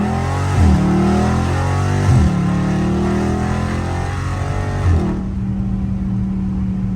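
A Dodge Scat Pack revs hard through several climbing pulls, its loud, close engine note rising, dropping and rising again, then settling into a steady throaty drone.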